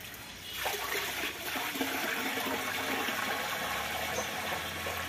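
Water poured by hand into a betta fish tank, a steady splashing trickle that starts softly and then runs continuously at close range, with no voices.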